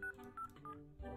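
Touch-tone keypad beeps from a phone number being dialed in a video game, three short clear tones spaced evenly, each over a steady backdrop of game music.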